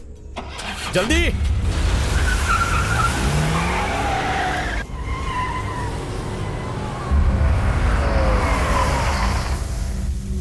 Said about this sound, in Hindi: जल्दी गाड़ी चला